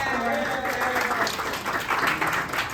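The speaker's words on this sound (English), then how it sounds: "Can you please give them a round of applause?" Audience applause at an accessibility event, steady dense clapping from a crowd filling the whole stretch at even loudness, with some voices mixed in.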